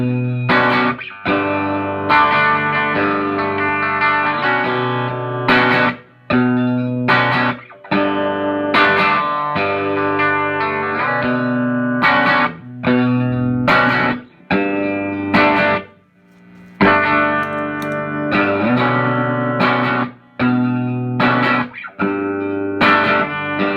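Electric guitar through the boost side of a Pelican Noise Works 50/50 overdrive pedal plays chords and single notes with a gritty, driven tone, pausing briefly between phrases.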